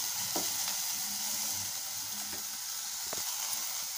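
Onion and finely chopped small tomato sauté together in a pan for a Tamil kuzhambu, a constant close hissing sizzle with a few soft stirring taps, with no speech.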